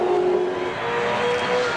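Ford Falcon race cars run on a wet track, a fairly faint engine drone with a broad hiss of spray.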